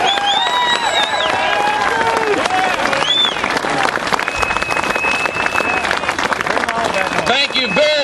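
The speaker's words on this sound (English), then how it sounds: "Please, a warm round of applause for our Congressman, Andy Harris." Crowd at an outdoor gun-rights rally in Annapolis applauding a congressman, loud sustained clapping with cheers and whoops rising over it, voices shouting throughout.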